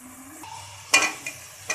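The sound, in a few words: masala spices frying and being stirred in a pan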